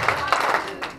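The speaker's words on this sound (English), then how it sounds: "2 claps." An audience claps twice in unison at a church gathering, two crisp, fairly close bursts of applause with a brief gap between them.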